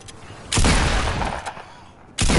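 A heavy grenade explosion in a multiplayer squad shooter, a loud broad blast with a rumbling decay, followed by a second loud bang at the end.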